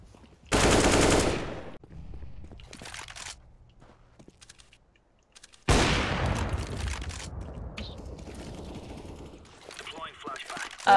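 Video game Glock fires in loud burst volleys, a dense rapid crack near the start, then sparse distant shots and another long sustained stretch of rapid gunfire with clicking.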